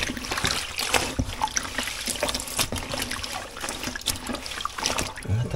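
Hands stir a down jacket through a basin of waterproofing liquid, giving close, continuous sloshing, trickling and dribbling water sounds with small splashes throughout.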